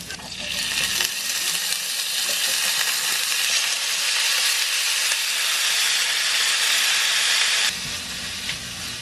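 Garlic and onion fry in a hot pan with a loud, steady sizzle and hiss that fills nearly the whole stretch, easing slightly near the end, with no talk over it.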